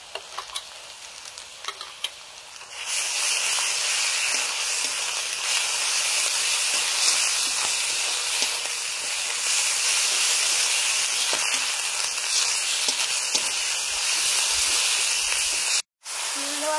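Garlic and ginger paste fries in a hot pan while spices are stirred, giving a loud steady sizzle and hiss that starts abruptly and carries on alone, breaking briefly near the end.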